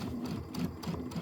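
Sewing machine stitching quilt blocks for a mini quilt, running in short steady bursts with a rhythmic low mechanical whir, close and fairly quiet.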